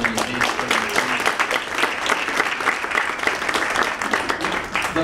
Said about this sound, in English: let's start with a round of applause for the 3 of them